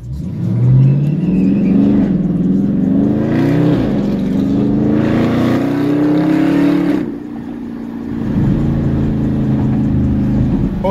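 A Dodge Scat Pack V8 with mid-muffler and resonator delete exhaust revs loudly and close, climbing in pitch through repeated pulls, dropping off briefly around the middle, then rumbling back up, with no voices over it.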